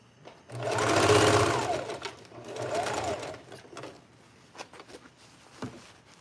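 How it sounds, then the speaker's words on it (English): A sewing machine stitches a jacket in two loud bursts of running, the first about 1.5 seconds and the second shorter, followed by quieter handling clicks and rustles near the end. "I already started sewing from here to here"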